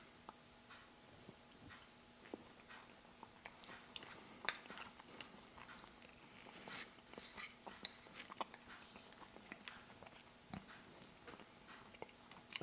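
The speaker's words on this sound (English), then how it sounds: "you're gonna be able to hear me chew just the way it is" Someone chews dry, slightly crunchy oat muesli from a French military ration close to the microphone, with soft irregular crunches and clicks over a quiet background hum.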